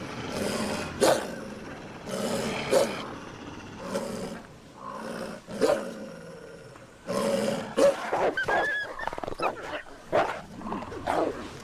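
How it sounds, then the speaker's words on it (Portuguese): Wolves in a wild European pack growling and snarling over a kill, repeated harsh bursts of deep snarls separated by short pauses, close and loud, with some yelping toward the end. "Os rosnados e dentes à mostra reforçam as posições na matilha."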